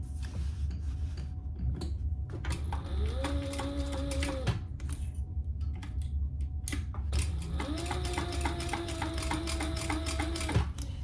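A sewing machine stitches fabric to a bag lining in two separate runs, each a rising motor whine with rapid mechanical ticking, separated by pauses with clicks and handling noise.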